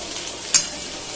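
Dry red chillies, bay leaf, cardamom and cinnamon are stirred in hot oil in a frying pan, a close continuous sizzle broken by one brief scrape of the spoon.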